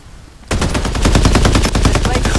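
Rapid automatic gunfire from the video game Farlight 84 erupts after a brief quiet moment, then rattles on loud and unbroken in dense, fast bursts to the end.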